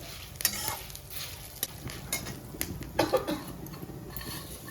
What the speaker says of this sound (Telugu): అవి వేగుతుండగానే జీలకర్ర ఉన్ను మిరియాలు వేస్తున్నాను